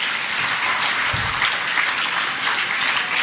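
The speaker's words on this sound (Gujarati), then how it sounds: "એના માટે બધા જોરદાર તાળીઓ લગાવો વહેલા." A crowd of children at a youth camp at Shree Kalki Narayan Tirth Dham, Nakhatrana, claps in loud, sustained applause, a thick steady roar of hands with no speech.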